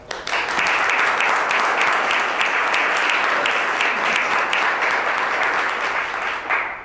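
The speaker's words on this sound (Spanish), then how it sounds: "hoy la recibimos con un fuerte aplauso" Loud, sustained applause fills a room at a book presentation, dense clapping from a large audience lasting several seconds before trailing off.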